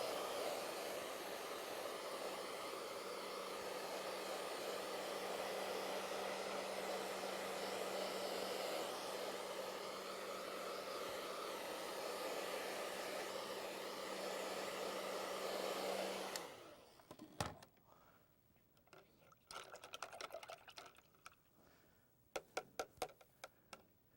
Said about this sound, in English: So I use the blower. It speeds up the process a few minutes.